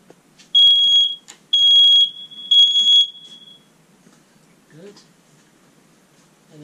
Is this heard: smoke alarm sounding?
yes